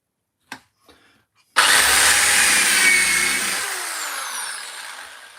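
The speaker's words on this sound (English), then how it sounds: "So let's drill these" A power drill bores holes in wood during a woodcarving project; after a few faint knocks, the motor whines up loud and steady, then gradually tapers off.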